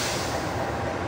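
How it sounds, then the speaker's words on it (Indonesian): A train hauled by a CC206 diesel locomotive rolls past near Jatinegara station, a loud, steady rumbling roar with rhythmic low thumping of wheels, close by and unbroken for a second, no talk. "dari arah stasiun Jatinegara ada kereta apa nih, pakai lokomotif CC206 ya"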